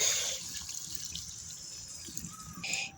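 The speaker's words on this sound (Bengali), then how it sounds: "এরপর দিয়ে দিচ্ছি জল" Water is poured into a pan holding fried soybean chunks and boiled papaya, giving a brief splashing trickle up close that settles into soft dripping, then a short burst of splashing near the end.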